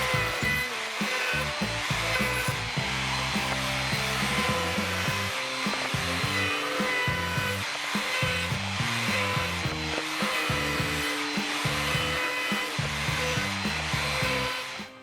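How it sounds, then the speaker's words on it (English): An electric router with a 1/8 inch roundover bit rounds the cut edges of wooden pergola awning bracket bases, whining loudly and continuously up close with small pitch dips as it bites into the wood. "we recommend rounding over the cut edges with an 1/8 inch roundover bit"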